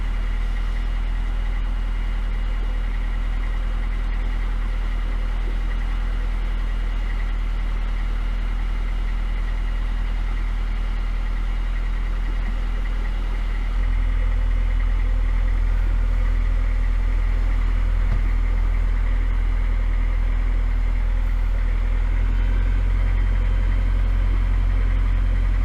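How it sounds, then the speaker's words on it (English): A canal boat engine on a narrowboat throttling up to cruising speed, a steady low diesel drone that steps up louder and deeper partway through, then rises again near the end, close and continuous with no talk. "I'm going to throttle up a bit"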